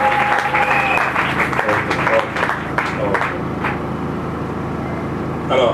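Applause from a church audience acclaiming the Lord fills the space as a dense, continuous clatter of many hands, steady and fairly loud from start to finish with a murmur of voices underneath.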